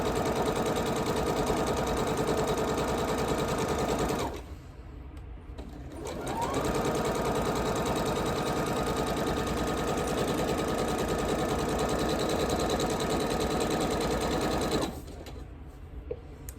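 Home sewing machine quilting a Sparklers quilt, running in a loud, steady, fast whir of close stitching, with two brief pauses where the motor stops before starting up again.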